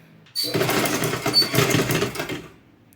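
A sewing machine stitches a pinched fabric ruffle for a frufru flower in one close, loud burst of rapid mechanical whirring lasting about two seconds before stopping.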